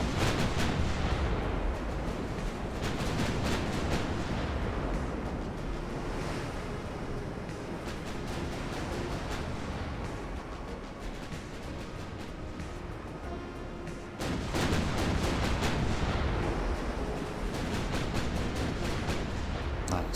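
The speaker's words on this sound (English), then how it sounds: "Nice torpedo detonation." Torpedo detonation in the naval warfare game Ultimate Admiral: Dreadnoughts, a loud, broad roaring blast over continuous surf and wind noise, with a second heavy surge of rumble near the end.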